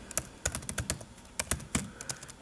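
Typing on a MacBook Air keyboard: quick, uneven bursts of close, crisp key clicks with short pauses between them, heard alone.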